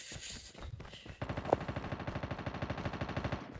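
Automatic gunfire bursts out rapidly in a battle royale video game, a fast, even rattle of shots that carries on for several seconds after a brief quieter opening.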